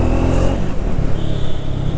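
A Triumph Speed 400 motorcycle being ridden, its engine note steady and close with a slight rise and fall, wind rushing over it for the full two seconds.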